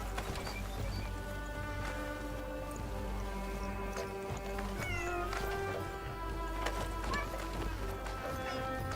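A cat meows in the video game Crimson Desert, several short mews standing out over a steady game soundscape with faint hoof-like clopping, close and moderately loud.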